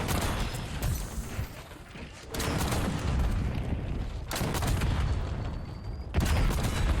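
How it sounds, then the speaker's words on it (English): Rocket launcher fire and explosions in Black Ops 6 gameplay, with several loud, broadband booming blasts arriving about every two seconds over a continuous rumbling battle din. "Go ahead and rocket launch again."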